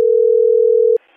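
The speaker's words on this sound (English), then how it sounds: "All right, hang up the phone." A phone dial tone after hanging up, one steady unbroken hum lasting about a second before cutting off into faint hiss.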